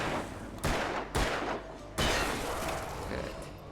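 Gunfire in the Alan Wake video game on PC: loud, close shots in three bursts, each followed by a sustained echoing roar of noise.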